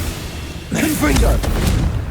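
A Confringo fire spell in Hogwarts Legacy bursts into a deep boom midway through, its rumble sustained under excited spoken dialogue, after a quieter lead-in of game ambience.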